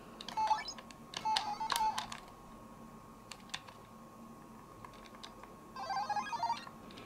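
Chiptune game effects from a Mario knockoff on a Retro FC handheld game console: short beeps and blips in scattered bursts, thin and faint, with quiet gaps between them.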